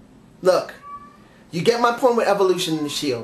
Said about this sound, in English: Oh, I'm sorry about my cat.